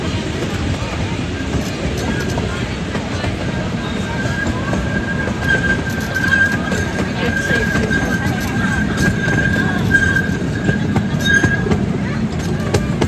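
A train rumbles steadily along the rails with a low, continuous clatter and a thin metallic squeal running through, loud and close.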